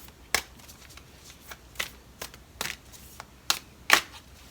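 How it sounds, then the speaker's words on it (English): Oracle cards being shuffled by hand during a tarot-style reading: a run of quick, crisp riffling snaps spaced irregularly, close and fairly quiet, with no talking. "I'm going to go ahead and pull some oracle cards now."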